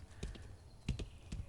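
Horse hooves clip-clopping at a working horse stable, a few distinct hoof strikes spaced irregularly, fairly quiet and close with low background noise.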